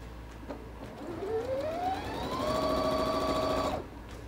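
Sewing machine stitching a pet bandana with backstitches at the start and end; a steady motor whine rises in pitch, then holds a sustained hum for about two seconds before stopping abruptly, with no talking.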